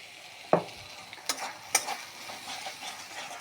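A spice paste with chili powder and cumin powder is stir-fried in a pan, with a soft background sizzle and a few distinct spatula scrapes and clacks against the pan, fairly quiet and close.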